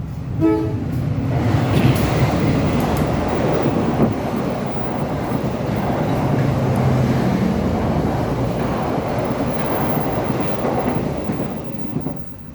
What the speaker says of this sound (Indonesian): Sebentar, ada kereta ya.